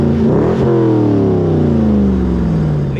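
A totaled Corvette's V8 engine revs up loudly and close, then its pitch sweeps steadily downward as it winds off over a few seconds, with no talking.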